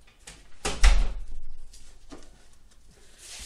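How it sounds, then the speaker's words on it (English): An indoor door swings shut with one solid thump, followed by a brief rattle and a few fainter knocks in a quiet room. "I gotta close the door."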